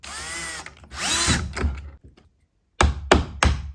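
Power drill driving screws to fix a projector roll-screen bracket in a home theater setup, two whirring bursts, a pause, then three short sharp trigger pulses close by.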